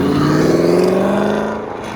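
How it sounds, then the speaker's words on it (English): A Corvette Z06 rolls out of a car meet with a loud, close engine drone whose pitch climbs then settles as it pulls away, with no talking. "Get a Z06 rolling out."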